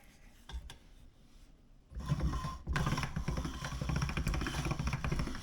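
A KitchenAid stand mixer with a pasta roller attachment runs as homemade pasta dough feeds through the rollers: a steady mechanical whir and rumble that grows louder and fuller partway through, continuing alone without talk.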